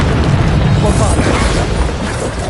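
Bombarda spell explosions in the video game Hogwarts Legacy, a sustained loud booming blast with rumbling low-end crackle that fills the whole stretch, with voices shouting over it.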